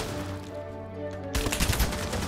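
A video-game gun set to single shot fires, a sharp loud report after a quiet stretch of low game hum, then a few follow-up cracks.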